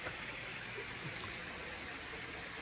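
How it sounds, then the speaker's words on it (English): Backyard waterfall beside an epoxied patio at a luxury waterfront home in Eagle, Idaho, giving a steady, even wash of trickling water that fills the whole moment without pause. "you've got the waterfall in the back"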